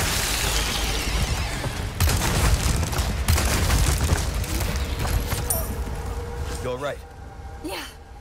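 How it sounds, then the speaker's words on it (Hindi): A Magnum revolver fires in Resident Evil 4 Remake during the Chief Mendez boss fight, with a few heavy booming shots and crashes amid dense game noise. "एश्ली को बचाने के लिए मैग्नम की गोलियां यूज करनी पड़ेंगी।"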